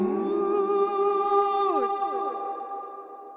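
A sung vocal line drenched in spacious reverb with long pre-delay, echoing repeats trailing behind the voice and sliding pitches smearing into a dreamy wash.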